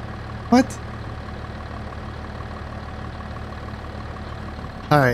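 A tractor engine idles in Farming Simulator 22, a steady low mechanical hum running throughout, broken by two short louder bursts near the start and end.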